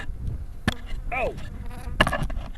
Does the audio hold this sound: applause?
no